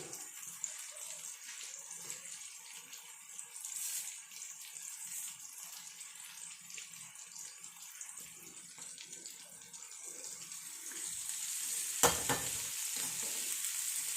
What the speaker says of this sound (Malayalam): കുറച്ച് കരിയാപ്പലം കൂടെ അതിനകത്തേക്കിടട്ടെ